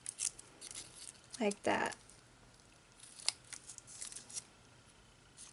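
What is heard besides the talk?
scissors cutting paper petals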